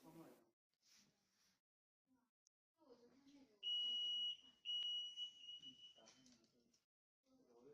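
A steady, high-pitched electronic alarm tone from an EM security gate antenna sounds twice in sustained bursts, with soft voices and rustling before and after.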